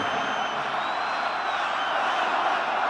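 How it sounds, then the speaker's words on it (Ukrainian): A large audience at a Ukrainian presidential debate shouts and cheers loudly, a dense, continuous roar of many voices with faint whistling tones drifting over it, steady and close throughout. "зараз гучно кричать люди"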